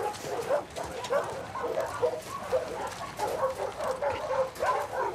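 German Shepherd dogs bark and whine in a kennel in The Last of Us Part II, a run of scattered yips and barks at moderate distance over a low background hum.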